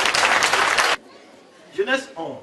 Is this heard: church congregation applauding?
yes